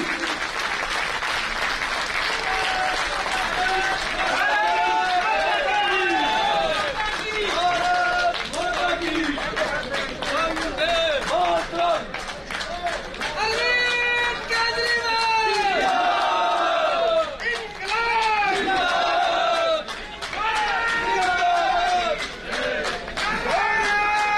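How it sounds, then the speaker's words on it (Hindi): A large rally crowd at an Aam Aadmi Party election event in Rajasthan applauds to welcome Sandeep Pathak, with sustained clapping, cheers and shouted slogans swelling and continuing for over twenty seconds. "जोरदार तालियों के साथ उनका स्वागत कीजिए"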